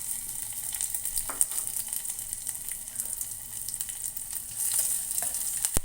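Green chilli, dried red chilli, curry leaves and garlic crackle in hot oil as a tempering for amaranth-leaf dal, with a continuous close sizzle, scattered pops and a few soft stirring knocks.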